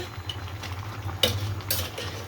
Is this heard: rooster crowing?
no